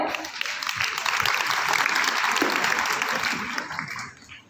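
Sustained audience applause at a Hindi comic poetry gathering held in a public school, a dense crowd clapping steadily and loudly for a young poet, tapering off near the end.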